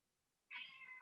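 A house cat gives a single drawn-out meow, close and fairly loud, rising out of a quiet room and ending with a soft thump.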